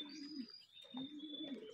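Racing pigeons at a loft coo in low, rounded phrases, two close cooing bouts separated by a short gap, with a faint steady high tone in the background and no speech.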